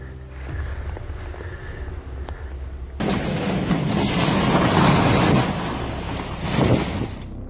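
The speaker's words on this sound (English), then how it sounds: "A coastal village bent under screaming winds as furious waves joined the storm's rage" Storm winds roar over a coastal village as furious waves crash, a low rumbling wash that suddenly swells into a loud, broad surging roar, dense and continuous with bursts of heavier impact noise.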